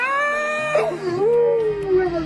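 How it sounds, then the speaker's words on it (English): A boat dog howls aboard a Scepter 41 sailboat: one drawn-out, mournful howl falls and then rises again in pitch, close by and alone. "this is Bruce, our boat dog"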